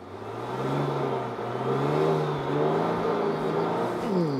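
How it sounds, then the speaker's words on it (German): A 2021 Ford Explorer 3.0 EcoBoost V6 plug-in hybrid revs hard with a steady loud engine roar, its pitch sliding up and down in waves as the throttle rises and eases, with no voices over it. "So ein V6 hört sich doch gut an, wenn man es mag."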